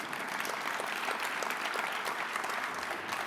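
An audience at a housing policy talk with Canada's housing minister claps in a steady, even round of applause, fairly distant and uniform, with no speech on top.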